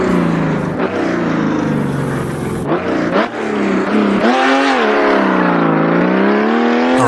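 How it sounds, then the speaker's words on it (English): A GTC race car engine in a racing game on the Nordschleife revs hard and loud, pitch climbing through gears with brief drops at shifts, then holding a steady high drone, with no voice over it. "we'll roll away from the start line here and try to do a leisurely lap around the Nordschleife"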